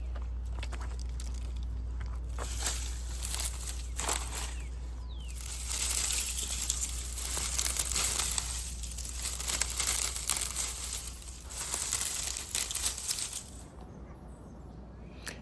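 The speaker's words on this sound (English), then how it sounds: "I'm going to add one layer of cardboard that we're going to get from the front porch." A layer of cardboard is laid over a compost pile in a city garden, with close, irregular crinkling, rustling and crumpling that swells in the middle and then fades.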